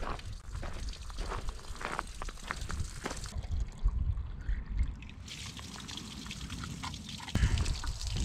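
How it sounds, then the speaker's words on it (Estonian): Water runs and trickles at a refill point along a hiking trail in Estonia, a soft continuous pouring stream heard close by amid quiet outdoor ambience. "Saan oma veevarusi täiendada siin."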